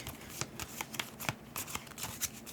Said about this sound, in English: Shuffle the discard pile into a deck